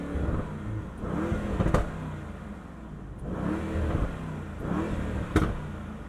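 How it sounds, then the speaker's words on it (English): A Mercedes E63S AMG with sport exhaust revs in loud, repeated bursts, each rise ending in a sharp crack, with a low idle rumble between the blips and no one speaking. "Exhaust is loud."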